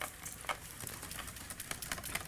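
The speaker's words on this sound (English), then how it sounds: "Want me to whisk with your industrial size whisk?" Large industrial-size whisk stirring whole milk in a bowl, a steady scraping, swishing churn with brief clinks of metal, close and continuous throughout.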